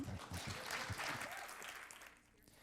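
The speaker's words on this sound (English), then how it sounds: "Let's give her a big round of applause." An audience breaks into a big round of applause for a woman, dense clapping that holds strong before thinning and fading near the end, with a voice briefly heard at the start.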